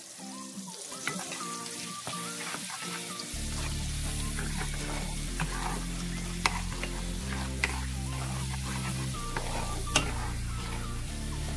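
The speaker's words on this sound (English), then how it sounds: "Now I'm going to add the garlic. Just fry it for a couple seconds." Garlic hits hot oil in a pan and sizzles steadily, a constant crackling hiss with a few sharp pops and light clinks, close and fairly quiet, with no talk.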